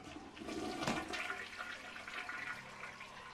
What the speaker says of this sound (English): Can I flush? Please tell me I can flush.